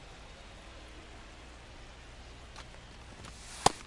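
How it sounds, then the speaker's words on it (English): Rain falling during a baseball game in MLB The Show 25, a steady soft hiss with a sharp crackle near the end and no talking. "towards a rain delay if the weather doesn't ease up, Chris."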